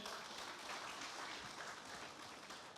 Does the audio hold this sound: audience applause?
yes